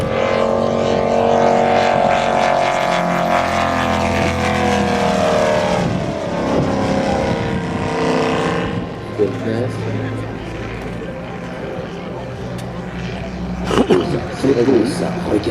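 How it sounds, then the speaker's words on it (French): A VM Valach Motor radial engine on a model aircraft at an airshow meeting, running loud and continuous with a strong drone that changes pitch, while someone commentates over it throughout. "vous êtes en présence d'un moteur en étoile, un véritable moteur en étoile"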